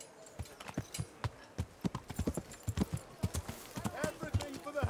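Horse hooves clip-clop in the medieval game Kingdom Come: Deliverance, a steady run of sharp, fairly close hoofbeats in an uneven trotting rhythm over faint background ambience.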